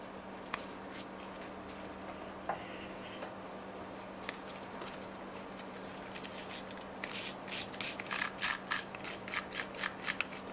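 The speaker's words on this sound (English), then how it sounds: "We're also gonna wire brush the caliper here, just a little bit, just to clean the dust off." A wire brush scrubs the dust off a rear brake caliper on a 2007 Mercedes C-Class W204, a close scratchy rasping that starts faint and grows into a run of quick, rhythmic strokes near the end over a low steady hum.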